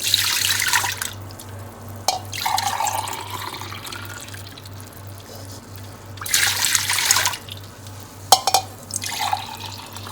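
Water pouring into a cooking pot for chicken pulao rice, a stream of liquid with a steady hiss that stops and restarts in a few bursts, close by over a constant low electrical hum, with no talking.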